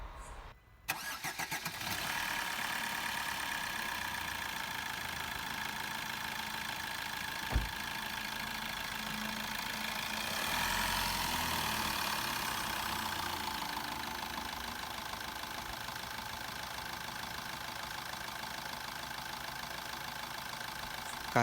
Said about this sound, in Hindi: तो हमें इंजन को 4 से 5 घंटे आइडल पे रखना है